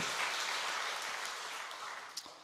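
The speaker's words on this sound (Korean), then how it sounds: "격려, 힘내라고 박수 한번 합시다" A church congregation at an early-morning prayer service claps together in a steady, moderately loud burst of applause that gradually tapers off over a couple of seconds.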